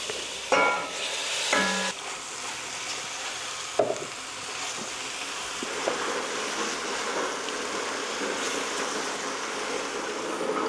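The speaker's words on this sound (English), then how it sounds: "Now in with some garlic. So we just got to cook that for 1 more minute" Steady crackling sizzle of garlic frying in a pan for chili, with a few clanks and stirring scrapes early on, close and continuous without talk.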